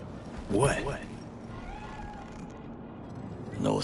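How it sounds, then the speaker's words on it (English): A cat meows in the game Cyberpunk 2077, two short meows near the start and end, moderately close against a quiet city background. "Do you see it? The cat? Fine-looking feline."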